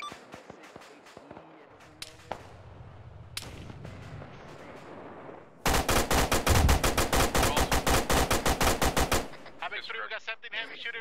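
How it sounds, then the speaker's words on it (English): Heavy automatic fire in the Arma 3 combat game, first scattered sharp shots, then a long, loud burst of rapid evenly spaced rounds lasting several seconds, followed by quicker fainter shots. "we got something heavy shooting at us from the southwest"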